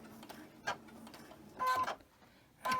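A sewing machine stitches straight down a quilt seam in short, close mechanical bursts separated by quieter pauses, with no talking.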